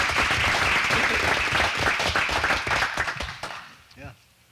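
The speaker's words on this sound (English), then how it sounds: "Mr. Mayor, let's give this kids a round of applause." An audience at a town council meeting in Nashville applauds a group of kids, a loud dense burst of clapping that fades out near the end as a voice speaks over the tail.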